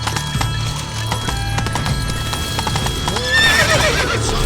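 Horse hooves clip-clopping at a steady gallop in The Witcher 3: Blood and Wine, loud and continuous, with a horse whinny near the end and no talk.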